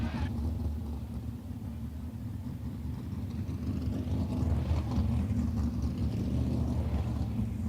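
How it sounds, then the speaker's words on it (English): Race cars at the Jacksonville Speedway rolling toward the staging lane before a practice session at an Outlaws event, a steady low engine rumble with a slight swell midway, no talk. "Rolling cars toward the staging lane for practice session number 3."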